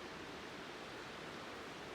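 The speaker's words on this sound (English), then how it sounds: "A river." Steady broadband rush of river water flowing through rainforest, a constant close hiss with no breaks and no voices.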